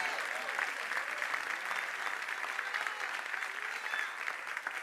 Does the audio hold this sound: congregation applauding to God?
yes